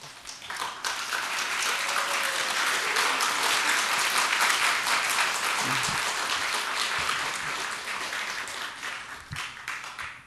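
A church congregation claps long and loudly as parents stand during a sermon gathering, a dense, steady wash of applause that fills the room for about ten seconds and thins slightly at the end.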